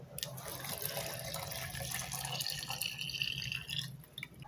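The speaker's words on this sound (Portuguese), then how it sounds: "aqui eu mornei a água e o leite e eu vou virar aqui agora" Warm water and milk poured into a blender for homemade bread dough, a faint, continuous liquid splash and trickle lasting several seconds.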